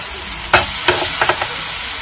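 Vegetable toast sizzles loudly in hot cooking oil, a steady close fry with a few sharper crackles and stirring scrapes.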